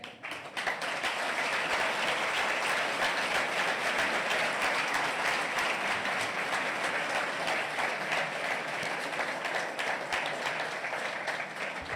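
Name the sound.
audience applause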